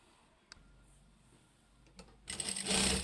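A sewing machine stitches a uniform pant pocket, starting up loud and close in the last half second after a quiet stretch with a couple of faint clicks.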